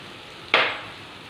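Chopped carrot for macaroni drops into a hot pan with a single sharp burst of sizzle that fades over about half a second, alone and close.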